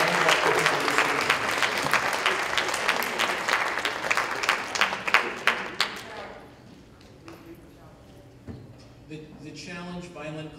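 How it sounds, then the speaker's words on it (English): Audience at a school academic bowl competition applauds the participants, loud crowded clapping that thins out into scattered claps and murmur before people start talking. "let's give a round of applause for all of our participants"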